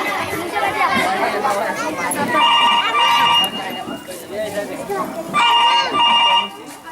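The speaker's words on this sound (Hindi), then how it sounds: "मैं अभी अपने बेटे को फोन करती हूँ।" A telephone rings in two bursts, each a bright electronic trill lasting about a second, as a call is placed in an old age home, with chatter and a voice going on underneath.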